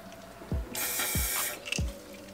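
Aerosol spray hissing onto the EGR valve of a BMW diesel engine in two close, loud bursts lasting about a second each, with a few low thumps in between.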